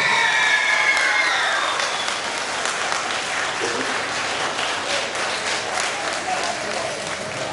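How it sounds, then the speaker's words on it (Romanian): A crowd at a folk festival competition claps loudly and steadily, the applause gradually easing slightly, with a voice audible faintly early on under the clapping. "Aplauze încă o dată"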